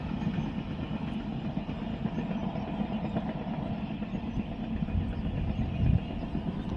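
A low, steady rumble of a train rolling by at a moderate distance, with continuous mechanical noise and no voices.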